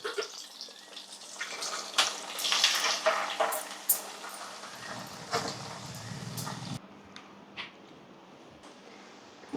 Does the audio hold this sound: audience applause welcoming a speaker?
no